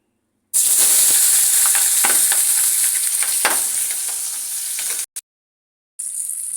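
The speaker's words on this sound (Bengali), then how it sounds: "তেলটা গরম হয়ে গেছে, এবার এতে আমি মাছগুলো দিয়ে দিব।" Tengra fish sizzling loudly in hot oil for a Bengali potato-tomato curry, a dense crackling frying hiss that runs steadily, cuts out briefly near the end, then resumes.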